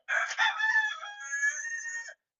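A rooster gives one full, loud, close crow in a backyard garden, a drawn-out call lasting about two seconds and then cutting to silence, heard alone without talking.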